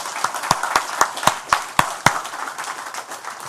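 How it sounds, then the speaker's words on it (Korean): A church congregation claps in unison during a worship service, about nine crisp, evenly spaced beats before the rhythm fades into quieter scattered claps and room murmur. "하나님께 감사의 박수 올려드립시다"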